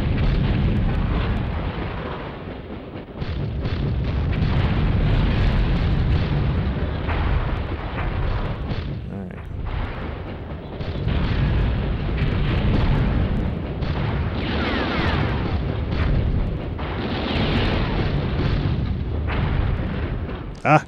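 Tank cannon fire and explosions from the video game BattleTanx: Global Assault, a dense, continuous barrage of booms and blasts that stays loud throughout with brief dips, no voices standing out.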